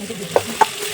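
Bitter gourd curry being stirred with salt and turmeric, two short scraping clinks of a spoon against the pan over a soft background sizzle.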